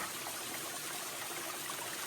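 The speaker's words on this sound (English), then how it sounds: "this is the stream for the shelter, I guess" A mountain stream beside a trail shelter rushes steadily and close by, a continuous broadband wash of flowing water with no talking over it.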